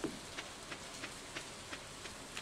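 Steady rain falls in the farming game Stardew Valley, a soft, even hiss with faint regular ticks repeating about three times a second, with no voices.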